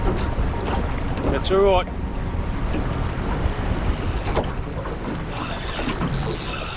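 Strong wind gusting and buffeting over a fishing boat at sea, a constant rushing roar with water noise underneath and a brief voice speaking.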